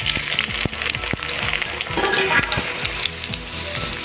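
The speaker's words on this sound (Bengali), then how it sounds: "পেঁয়াজগুলোকে ভালো করে লাল লাল করে ভেজে নেব" Thinly sliced onions sizzle and crackle steadily in hot oil with bay leaves, close and loud, with occasional scraping taps of a spatula stirring the pan for a village-style chicken curry.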